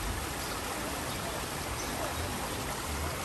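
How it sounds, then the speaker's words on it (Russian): Muddy flood water flowing across a flooded seaside embankment street in a resort town, a steady, even rushing wash with no breaks, fairly faint and continuous throughout. "чтобы перейти на противоположную улицу, надо прямо идти по грязной мутной водичке"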